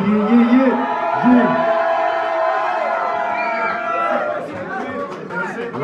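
A crowd at a rap concert in a Brest venue makes noise and cheers loudly, with sustained chatter and whoops over a dense, continuous roar.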